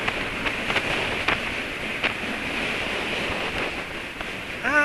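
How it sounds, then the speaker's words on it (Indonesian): Steady rain falls outdoors as a dense, even hiss that holds constant with a few faint knocks. A brief electronic chirp comes near the end, and no one speaks. "Udah hujan."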